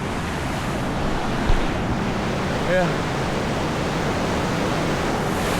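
A flooded river rushing through Padang city, heard as a steady, dense roar of churning water with wind buffeting the microphone and a brief spoken word over it.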